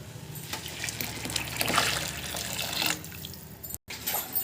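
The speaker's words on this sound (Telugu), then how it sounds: "ఈ నీళ్ళని మనం రైస్లో వేసుకున్నాము" Boiled water poured from a vessel into basmati rice for prawn biryani, a steady liquid splashing and trickling stream lasting several seconds with a brief break near the end, close and fairly loud with no talk.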